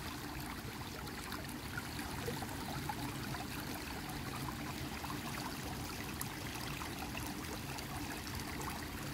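A forest stream in the Valin forest runs steadily, a continuous close trickling and gurgling of water with no pauses, fairly quiet and alone.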